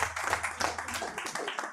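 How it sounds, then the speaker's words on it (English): Audience clapping at a healthcare conference event, a dense broadband patter of many hands sustained throughout, moderately loud and fairly close, with no talk over it. "Can we have a big round of applause for ma'am"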